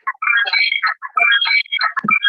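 A phone rings during an online meeting, its bright electronic warbling tones repeating in quick bursts, fairly loud and close, with no talk over it.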